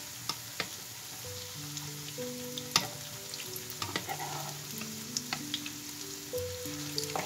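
Ham-and-cheese-stuffed potato fritters fry in hot oil over moderate heat with a steady soft sizzle, punctuated by sharp clicks and pops, close and alone, with faint background tones drifting through.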